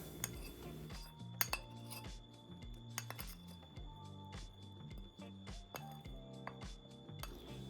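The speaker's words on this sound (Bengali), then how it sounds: "এবার আমি তরকাটিকে খুব ভালো করে খিচুড়ির সাথে মিশিয়ে নেব" A spoon stirs tadka into microwave-cooked Bengali khichdi in a bowl, giving faint, repeated light clinks against the dish over soft background music.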